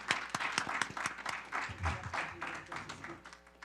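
An audience claps at a community funding project presentation, a brisk scatter of individual claps from a modest crowd, fairly close and moderately loud, with a few faint voices mixed in.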